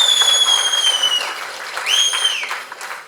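An audience at a Tamil film audio launch claps, with two loud, rising-then-falling whistles cutting sharply above the close, steady patter of hands.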